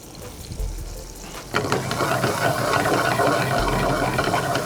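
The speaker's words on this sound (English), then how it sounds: "the oil is frying the garlic and the chili very gently, but not too low" Garlic and chili fry gently in oil in a pan for linguine marinara, a steady close sizzle and hiss that grows denser partway through, with no talking.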